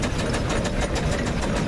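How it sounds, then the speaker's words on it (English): A Garrett 4CD compound steam traction engine with double cylinders chuffs past at a vintage rally on Anglesey, Wales, its loud, rapid, even beats close by and heard alone. "Then we've got the 4CD Garrett going through"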